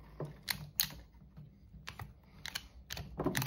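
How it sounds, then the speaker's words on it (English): Hand snips cutting through electrical cable while a socket is being extended: a handful of sharp, close clicks and snaps spaced irregularly over a quiet background. "And then again, we're going to get the snips."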